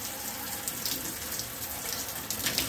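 Water jet spraying onto a HyperX Pulsefire Haste Wireless mouse, a steady broadband hiss and splatter like a running tap, continuous and fairly close for a few seconds with no talk.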